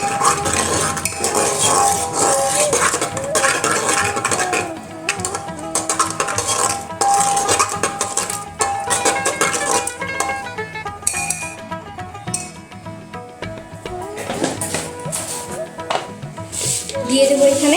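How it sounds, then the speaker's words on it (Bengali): Thick arhar dal being whisked and mashed in a metal pot, with busy scraping, clinking and stirring sounds, close and fairly loud, continuing steadily with brief pauses. "এবার এটা একটু ভালো করে একটু ঘুটে নেব।"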